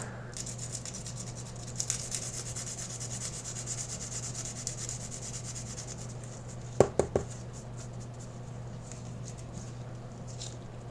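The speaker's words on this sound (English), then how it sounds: "I don't know how I'm going to sand around the Triforce." Sandpaper rubs steadily across a Master Sword prop in a home studio, a soft continuous scratching over a constant low hum, broken by a few quick knocks partway through.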